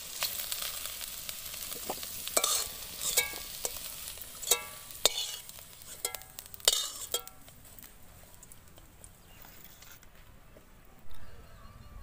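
Fried ivy gourd (kundri) sizzles softly in hot oil in a kadai while a utensil scrapes and lifts pieces out, giving sharp intermittent clinks over a fading frying hiss.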